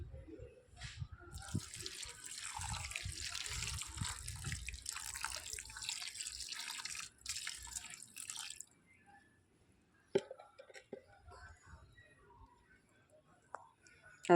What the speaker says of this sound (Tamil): தண்ணி ஊற்றி விட்டுறலாங்க.